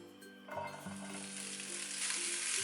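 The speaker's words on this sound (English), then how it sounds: "Now we're going to cook our bacon until it becomes nice and golden." Bacon frying in a pan without added oil, a soft close sizzle that swells into a brighter, steadier hiss, with a faint hum underneath and no talking.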